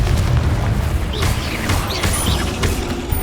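Loud, continuous explosive booms and bursts from the Confringo fire spell in the video game Hogwarts Legacy, layered densely with several blasts and crackles over a rumbling background.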